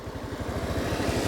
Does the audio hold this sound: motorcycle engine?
yes